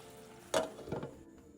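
Pan-fried dumplings meet a pour of diluted flour water in a hot pan, giving a sudden loud hiss and sizzle that bursts up, dips, then swells again before settling into a softer crackle, with no voices.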